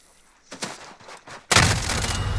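Shotgun blasts in the Warzone game: a few soft thuds, then a loud, sudden burst of gunfire that stays heavy to the end of the short clip.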